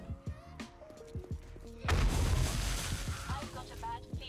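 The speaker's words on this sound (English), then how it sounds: "Stop shooting at me." A sudden burst of gunfire and booming impacts from enemies in 7 Days to Die: Darkness Falls, loud and sustained after quieter clicks and tones, with sharp shots continuing underneath.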